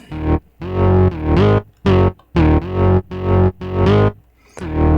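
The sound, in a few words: synthesized bass loop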